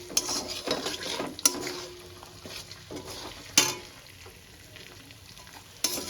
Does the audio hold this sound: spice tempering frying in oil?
yes